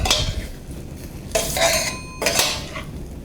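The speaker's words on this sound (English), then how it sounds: "I'm just going to heat this up till the broccoli and pasta has been warmed" Broccoli and pasta are stirred in a pan as they heat, with a utensil scraping and clinking against the metal in a few distinct bursts over a quiet background.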